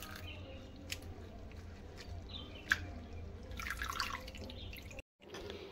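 Raw potatoes are washed by hand in a bowl of water, giving quiet, close dripping and small splashes with a couple of sharper plops, then a brief cut to silence near the end.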